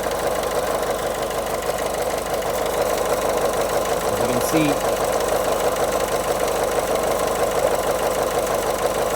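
A Peugeot/Citroen 1.6 diesel engine idles with a steady, knocking clatter under the bonnet, loud and continuous throughout, with a brief voice partway through.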